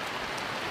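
Rain falling on an outdoor croquet lawn, a steady dense hiss heard briefly and evenly with no voices.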